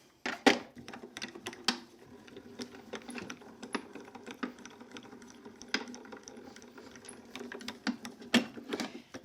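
A tabletop die cutting machine runs a paper tag through, a close, quiet mechanical whir with clustered clicks and ratcheting taps at irregular intervals, no talk.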